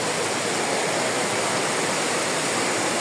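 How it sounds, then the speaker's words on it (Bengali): Heavy rain pouring down steadily, a dense, unbroken roar of hiss filling the whole stretch at close range with no pauses or voices. "ঝমঝম ঝম বৃষ্টি"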